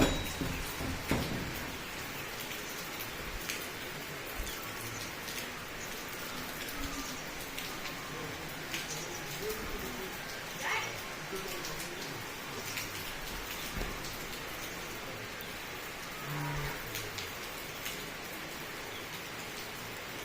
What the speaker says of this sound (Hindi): और बाहर शुरू हो गई है बारिश